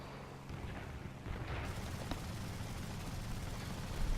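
Front gunner of an Ar-2 bomber fires its machine gun in War Thunder, a dense continuous rattle over steady engine roar, loud and sustained across the whole stretch.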